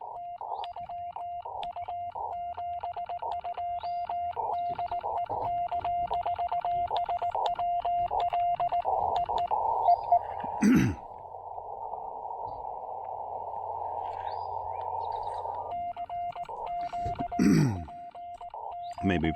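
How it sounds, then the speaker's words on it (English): A steady buzzing tone with a pulsing, chopped texture from a modified sine wave power inverter hums through a radio receiver, joined by bursts of static and brief crackles. "That is the unmistakable sound of someone's inverter."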